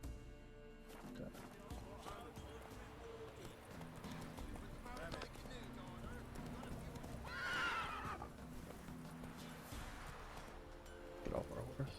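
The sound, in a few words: horse neighing in The Witcher 3 video game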